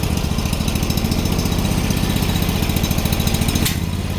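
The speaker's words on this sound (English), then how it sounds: "One cylinder's already sounding like it's fouled, damn it. Oh, it kicked on both. Stay running on both." Bolens HT-23 garden tractor with a twin-cylinder engine prone to fouling plugs, running loud and close with a steady rough putter, then a sharp clunk near the end as the idle shifts.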